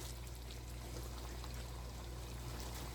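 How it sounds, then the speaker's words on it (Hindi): Water being poured into a pan of Maharani Mughlai chicken curry, a steady close-up pouring and trickling sound with a low cooking hum underneath, no one talking. "तो मैं इतना ही पानी डालूँगी, ज़्यादा नहीं।"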